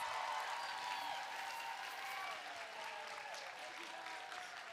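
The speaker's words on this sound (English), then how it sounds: "Can we give another round of applause?" A small group applauds over a Zoom call at a live online event, a faint, steady patter of clapping that fades slightly toward the end.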